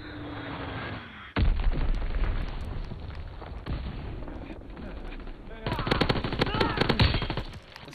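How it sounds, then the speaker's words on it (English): Bomb drop and heavy explosions in a World War II combat video game, a sudden loud blast followed by sustained rumbling gunfire and booms, intensifying near the end with rapid cracking shots. "Dropping Azon bomb!"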